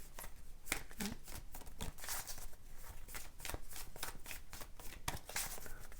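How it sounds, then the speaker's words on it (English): A large deck of tarot cards is shuffled close by, giving repeated rhythmic riffling bursts with brief pauses between them and no talking. "One more shuffle."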